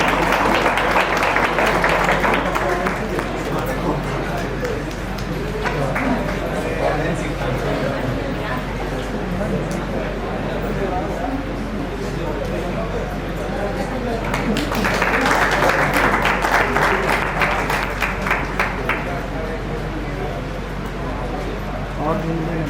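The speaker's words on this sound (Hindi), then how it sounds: "जोरदार तालियां होनी चाहिए।" Loud applause and clapping from an audience at an Engineers' Day event at a government polytechnic in Patna, swelling at the start and again mid-way, with crowd noise throughout.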